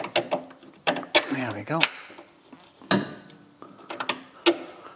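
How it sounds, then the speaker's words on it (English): A bolt being worked into the rear leaf spring mount of an MGB GT, with sharp metallic clicks and knocks in an irregular run, close by, while someone speaks briefly. "I'm going to try to put the bolt in now."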